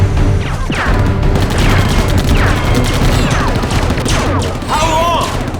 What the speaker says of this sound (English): Spear gun!